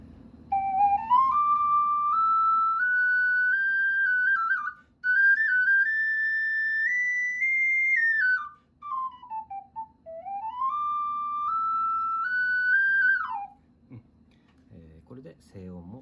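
A G-tuned ceramic ocarina being played: a pure, mellow whistling tone holds long notes and glides smoothly between pitches across several phrases, loud and close, with brief pauses between them and a quiet hum beneath.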